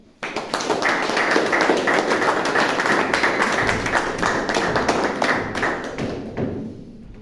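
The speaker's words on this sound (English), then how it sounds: "Please, with a big round of applause, please welcome TM Toastmaster Nimit Mittal." Close, brisk hand clapping from a Toastmasters club meeting audience welcoming a speaker to the front, a dense steady round that starts abruptly, holds for several seconds and tapers off at the end.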